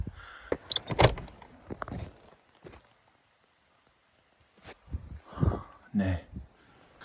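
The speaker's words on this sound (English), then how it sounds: "I opened up those 2 doors." Doors of an emergency hut in the Swedish mountains clatter open, with sharp knocks and rattles near the start, a quiet stretch, then more thuds and handling noises close by.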